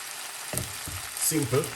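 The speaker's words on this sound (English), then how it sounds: "put a little bit of butter" Butter hits a hot frying pan with a soft sizzle, followed by a few light scraping stirs, fairly quiet and close.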